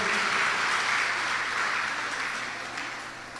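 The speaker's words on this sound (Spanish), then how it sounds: "Le das un fuerte aplauso a Rey de Reyes." A congregation applauds during a church service, loud sustained clapping that fades slightly toward the end.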